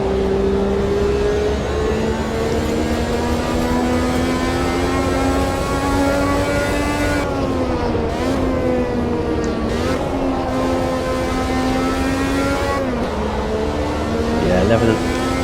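A 1983 Renault turbo Formula 1 engine revs hard and steadily on track, its high whining pitch climbing and dipping through gear shifts with a brief lift around the middle, loud and close throughout.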